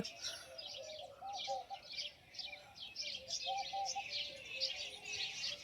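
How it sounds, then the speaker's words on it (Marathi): Birds chirping in a tamarind tree on a village morning, with steady overlapping tweets and soft cooing at moderate distance against faint outdoor background noise. "सकाळ सकाळ पक्षी आले ते चिंचेच्या झाडावर बसलेत."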